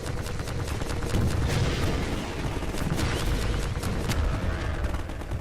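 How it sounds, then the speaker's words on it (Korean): Explosions and heavy gunfire in the game Half-Life 2, a dense, loud barrage of repeated blasts and rapid shots with a rumbling low end, continuous throughout. "폭발"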